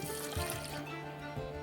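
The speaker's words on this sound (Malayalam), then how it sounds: "1/2 കപ്പ് വെള്ളം കൂടി ചേർത്ത് കൊടുക്കാം." Half a cup of water pours into a cooking pot of vegetables with turmeric and curry leaves, a brief, soft splash and trickle lasting under two seconds.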